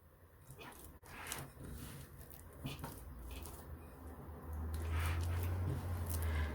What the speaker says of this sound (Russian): Тесто, когда перемешиваю, я вот так вот руку отпускаю в воду и как бы с водой перемешиваю.